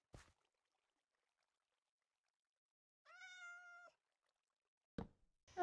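A single drawn-out meow from a cat in the video game Minecraft sounds once amid near silence, with brief knocks or clicks before and after.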